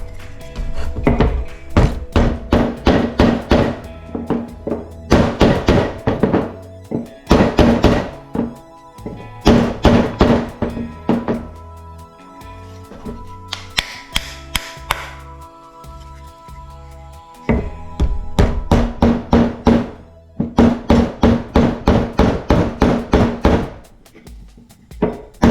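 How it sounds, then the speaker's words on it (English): Hammer blows drive nails into wooden boards while a bonsai grow box is assembled, coming as loud, close, rapid runs of sharp knocks separated by brief pauses. "That way it'd be easier to go ahead and finish nailing it right into there"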